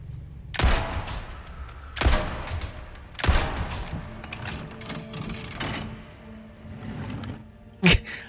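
Gunfire from the Resident Evil 4 Remake video game, played on PS5: three loud sharp gunshot bursts about a second apart, followed by softer lingering game sounds and one more brief sharp crack near the end, with no talking.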